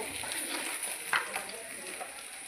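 Tilapia fish fries in hot oil in a pan, a steady close sizzle with a brief louder crackle partway through.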